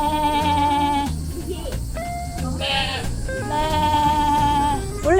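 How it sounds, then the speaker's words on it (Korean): A goat at a hillside park in Fukuoka bleats repeatedly in loud, wavering cries that overlap one another, close and steady across the whole stretch, while a person talks briefly in between. "너가 대빵 염소로구나. 진짜 매 이렇게 한다."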